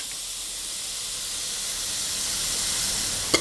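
Pork belly with shrimp paste and stink beans stir-frying, a steady bright hiss of sizzling oil that holds evenly throughout and ends with a single sharp utensil tap.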